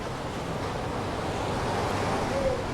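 Sea waves wash steadily beside a beachfront homestay room on the Gulf of Thailand coast. They form a constant broad hiss of surf, mixed with some wind noise and no clear individual breakers, and no voices are heard.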